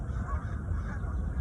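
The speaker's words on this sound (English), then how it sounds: "there's geese flying over there" A flock of geese honks steadily as it flies over a fall meadow on a nature walk, the calls fairly close and continuous throughout.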